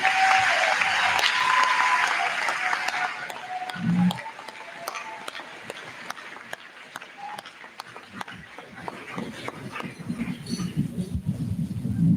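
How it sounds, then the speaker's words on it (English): Graduation ceremony audience at Goodrich High School giving a round of applause for the class of 2025 seniors; loud sustained clapping that thins into scattered claps and rustling before swelling again. "how about one more round of applause for our seniors who are getting their last song?"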